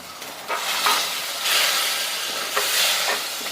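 Goat spleen masala stirred in a hot pan, a steady sizzle and hiss with a few louder scraping surges of the spoon, close and alone.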